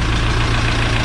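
An Ursus C-360 tractor engine idling close by, a loud steady low-pitched throb with even firing pulses and no pauses.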